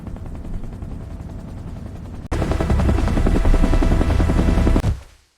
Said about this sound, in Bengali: হেলিকপ্টার চলে গেলে